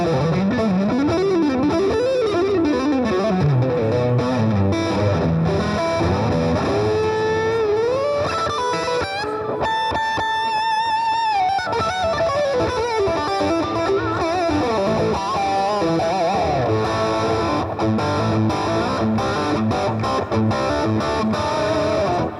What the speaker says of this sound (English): it's super, super creamy rock from this alternative 8 from Seymour Duncan